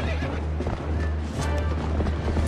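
Horse in Legend of Zelda: Twilight Princess galloping with busy clip-clop hoofbeats and a whinny over game music and effects, loud and dense.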